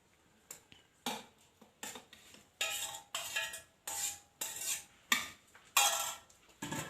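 Pieces of tender coconut flesh are scooped into a mixer jar, giving a run of about a dozen sharp scraping and clinking spoon strikes against the jar, close and distinct, with quiet gaps in between.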